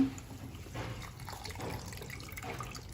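Quiet sloshing and trickling water as grains are swirled and rinsed in a bowl, a soft continuous splashing with no voices.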